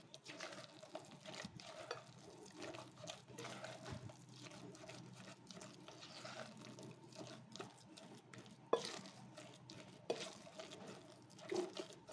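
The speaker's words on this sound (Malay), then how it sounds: "Kacau dulu" Soft, continuous scraping and swishing of cassava cake batter being stirred in a bowl, with occasional light clinks, quiet and close.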